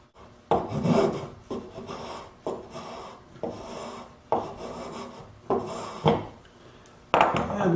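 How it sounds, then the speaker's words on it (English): A saber saw cuts tapered facets around a clamped wooden workpiece for a wheelbarrow planter, giving a series of loud, rasping cutting bursts in a steady rhythm of roughly one per second, close by and with no one speaking. "I'm going to use a saber saw to follow that mark."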